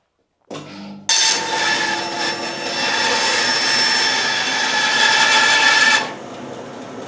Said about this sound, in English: Before we run straight for the bandsaw, make sure that you're not going to hit a screw